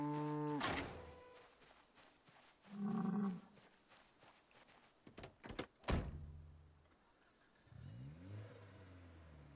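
Cows moo in a farming survival video game, two drawn-out lowing calls several seconds apart alongside a car door thunk and other clunks, with no talking.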